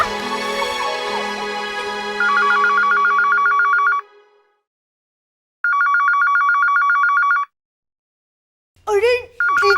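A home landline telephone rings in repeated loud electronic bursts, each a buzzing trill, separated by a pause of silence, with voices talking briefly before and after the rings.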